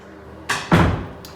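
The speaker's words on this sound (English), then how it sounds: "Let me close this door." A door is pushed shut indoors, a short scrape followed by a firm, close thud with a faint latch click after, heard alone in a quiet room.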